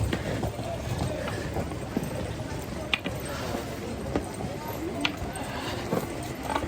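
Horses' hooves clip-clop on the stone pilgrimage path up to Mata Vaishnodevi, a steady run of fairly faint hoofbeats with a few sharper strikes, mixed with the murmur of people around.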